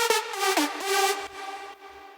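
A simple synth lead melody of a few bright, harmonically rich notes for an EDM drop, played alone and clearly, with a short rhythmic phrase of accented notes over about two seconds.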